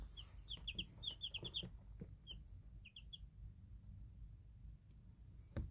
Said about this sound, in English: Lovely little birds. All together.